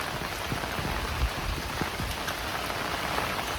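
Heavy rain pours down in a dense, unbroken hiss of drops drumming on surfaces, loud and close with no voices.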